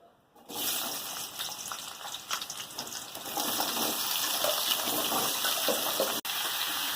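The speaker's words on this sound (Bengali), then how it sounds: "কড়াই তেলও দিয়ে দিয়েছি, দেখতে পাচ্ছেন গরম হয়ে গেছে। এবারে আলু আর কুমড়োটা দিয়ে দেবো।" Potatoes and pumpkin dropped into hot oil in a wok, a sudden loud sizzle that settles into a steady hiss of frying, with faint clatter and a brief break near the end.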